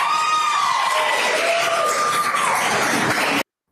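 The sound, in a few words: people clapping in a courtroom as murder defendant enters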